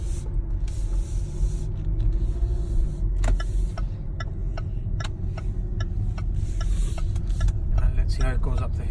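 Car with a pedal box accelerating up a hill, its engine droning steadily from inside the cabin, with a series of sharp ticks and clicks over it and a person speaking.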